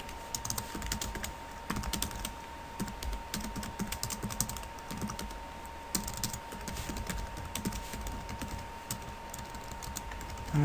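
Steady typing on a computer keyboard while setting up a Game Maker shooting game, with dense clicking keystrokes running continuously and close throughout, no talking over them.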